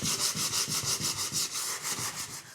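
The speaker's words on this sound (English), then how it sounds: "I needed to sand those areas smooth" Sandpaper rubbing back and forth over dried spackle patches on a bathroom wall, a steady, loud, rhythmic scraping with about a dozen even strokes, close up with no talking.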